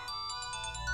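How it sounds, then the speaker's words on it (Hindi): A phone ringtone chimes in a quick, repeating electronic pattern, clear but fairly quiet. "फोन बज रहा है।"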